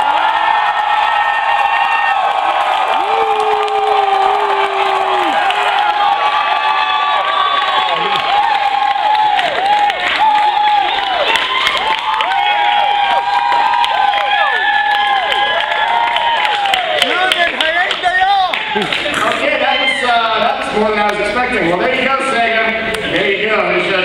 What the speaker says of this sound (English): I want to hear you cheer, okay?